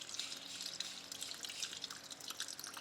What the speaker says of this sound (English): We'll drain the coolant first.